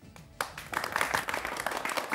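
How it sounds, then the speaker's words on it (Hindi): A small group at a cake celebration claps briefly, starting with a sharp burst and continuing in lively, uneven rhythm for a couple of seconds. "और ताली बजाइए।"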